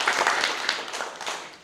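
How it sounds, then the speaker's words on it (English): Hand clapping from a community gathering at a regreening project visit in Migori, a short burst of loud, close applause that fades toward the end. "don't you give him a hand clap?"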